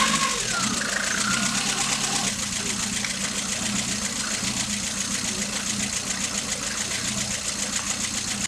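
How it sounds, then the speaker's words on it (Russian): A VAZ 2110 engine idles steadily and evenly for the whole stretch, a continuous mid-level hum with a low rhythmic pulse, heard close up with no talk over it. "Двигатель прям, ну, идеально ровненько работает."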